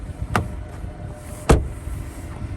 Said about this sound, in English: Doors have a very nice sound.